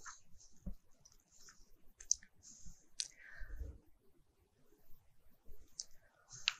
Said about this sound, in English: Then I click on OK.